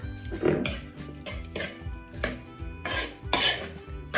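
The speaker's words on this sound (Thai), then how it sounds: "แล้วก็มิกส่วนผสมให้เข้ากันค่ะ" Spoon scraping and clinking in a bowl while Thai wing bean salad with fresh shrimp, boiled egg, sliced shallot and peanuts is mixed, a repeated rhythmic stirring with clatter and wet squelches, close up.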